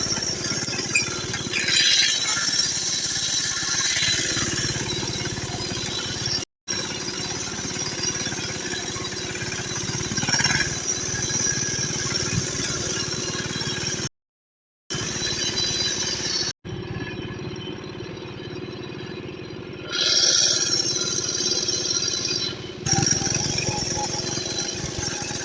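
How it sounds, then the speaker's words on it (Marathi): A farm tractor heads to the field to harrow it before sowing, its engine chugging and rattling steadily up close, with a few brief dropouts along the way. "आता चाललेलं आहे आपलं ट्रॅक्टर"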